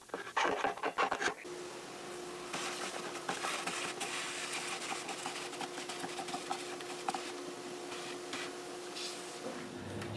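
A sander trims a part of a Taylor guitar with a steady, close abrasive rasping and rubbing that carries on for several seconds with a faint constant hum underneath, after a brief burst of scratchy handling at the start.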